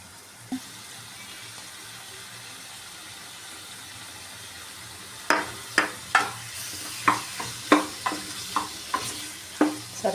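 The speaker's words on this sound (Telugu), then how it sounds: "ఇప్పుడు కొద్దిగా ఫ్రై అయ్యాయి, కొంచెం బాయిల్ అయ్యాయి రొయ్యలు" Raw prawns fry and simmer in a pot of okra pulusu with curry leaves, a steady soft sizzle joined midway by a run of sharp, rhythmic scraping stirs against the vessel, close and loud.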